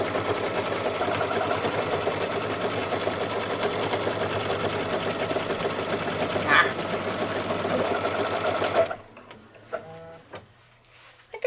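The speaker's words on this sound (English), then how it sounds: "now it's going to do the last stitch" An embroidery machine stitches a potholder with a loud, steady rapid mechanical chatter for about nine seconds, then stops abruptly, leaving quieter handling sounds.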